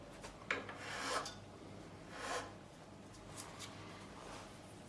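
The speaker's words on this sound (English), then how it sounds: "I just use this just for shaping nuts because it's a good cut. So what I'm doing is rounding over the edge of this nut now" A file rasps across the edge of a guitar nut on a vintage Thomas Blug signature Strat, rounding it over in a few slow, soft strokes that are fairly quiet and close, with no talking.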